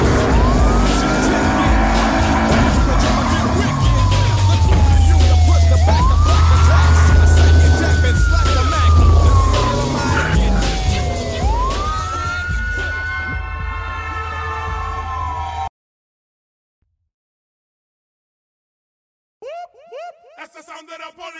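Police car siren in a Battlefield Hardline chase: a loud wailing siren rises and falls repeatedly over roaring car engines and skidding tyres, then drops to silence before a brief tail of sound returns.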